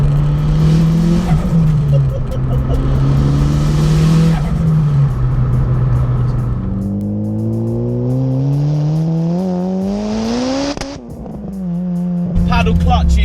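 Turbocharged 440 bhp Honda Civic EP3 Type R with a paddle clutch accelerating hard. The engine note climbs steeply through repeated gear pulls, loud and close from inside the car, with a brief voice near the end.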